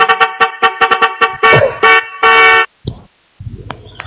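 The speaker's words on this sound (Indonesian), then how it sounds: "Asik klakson." Car horns blare again and again in a stalled traffic jam: a fast run of short toots, then long sustained blasts and a few brief honks, loud and close, with engine rumble underneath.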